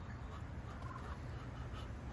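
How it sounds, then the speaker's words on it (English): Ducks call faintly in the distance near their hut, a few soft quacking bursts over a quiet outdoor background with no speech. "Ducks are in the hut."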